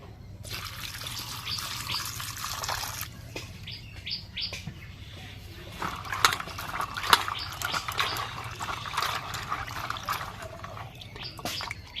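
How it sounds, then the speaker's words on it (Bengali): Peeled jackfruit seeds being rinsed with water, soft splashing and dripping running steadily under birdsong chirping in the background. "কাঁঠাল দানাগুলো সব ছাড়িয়ে নেওয়া হয়ে গেছে, এবার আমি জল দিয়ে ধুয়ে নেব"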